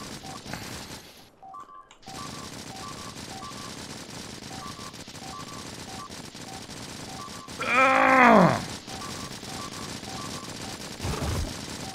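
An SMG fires in the Factorio video game as faint, steady rapid shots under repeating electronic tones, with a louder swelling burst of combat noise near the end.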